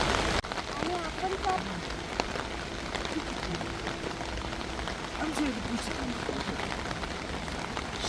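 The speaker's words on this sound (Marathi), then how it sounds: "त्यात पडत आहे मस्त पाऊस" Steady rain falls around a 309 m suspension bridge in South Korea, a dense, even patter throughout, with faint voices talking in the background.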